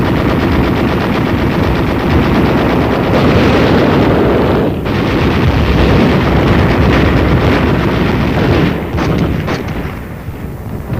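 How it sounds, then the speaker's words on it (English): Dense, continuous artillery barrage from an army training film, a heavy roar of overlapping blasts and rapid bursts that stays loud throughout with no voices over it. "Simultaneously, a preparatory barrage of artillery fire is laid down on the aggressor-held shore."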